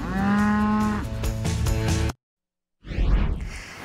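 Cows mooing in a field, a long loud low moo followed by more bellowing over rustling outdoor noise, then a brief silence before a whooshing transition.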